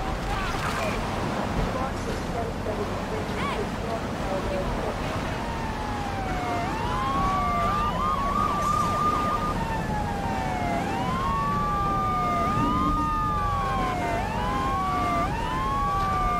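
In GTA 3 The Definitive Edition, several police car sirens wail in overlapping rising and falling sweeps, growing louder over a steady rumble of traffic.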